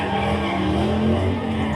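A car spinning at a car meet with skidding, squealing tires, a loud continuous screech blended with engine roar, sustained throughout without any talking.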